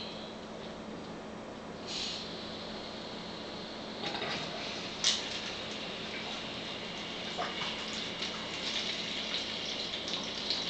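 Ionized water runs from a tap into a container as a steady, faint hiss, broken by a few soft knocks and clinks.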